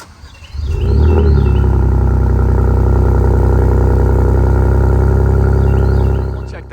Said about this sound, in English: Let's go ahead and start this thing up with the remote start so we can hear what the exhaust sounds like.